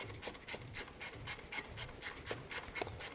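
Ratchet working on the bolts of an idle air control valve on a GM 3100 engine, a quiet, rapid, evenly repeated clicking rasp of about a dozen strokes, close and alone.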